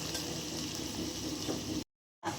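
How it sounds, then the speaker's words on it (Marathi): Crushed garlic is stirred and fried in a pan until browning, giving a steady, close sizzling hiss that cuts out briefly to silence before resuming. "लसूण आता हलवून घेऊयात. चांगला तपकिरी कलर येईपर्यंत हलवायचे आपल्याला लसणाला."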